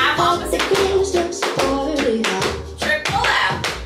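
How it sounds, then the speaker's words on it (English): Hand claps ring out during a beginner Christmas tap dance routine, crisp and close, mixed with tapping footwork and music in a busy, uneven rhythm. "Clap opposite."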